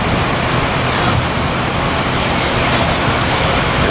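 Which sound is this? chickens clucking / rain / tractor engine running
rain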